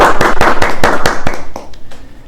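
A small group in an office clapping to welcome a newly joined tax accountant: loud, close, sharp hand claps in a quick steady run that thins out and fades after about a second and a half.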